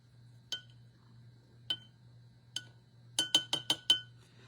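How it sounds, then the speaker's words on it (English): A watercolor paintbrush is rinsed in a glass of water, sounding as three spaced, bright glass clinks followed by a quick run of five rapid taps against the rim, with a faint low hum beneath. "And then I'm going to rinse my brush."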